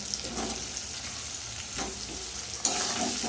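Potatoes fry with a steady, loud sizzle in a hot pan, crackling briefly as they are stirred, and no one speaks.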